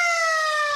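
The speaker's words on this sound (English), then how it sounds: "Siren us up, David Tuchman." A steady, loud siren sound effect plays alone on a poker stream, a sustained wailing tone that holds without a break throughout.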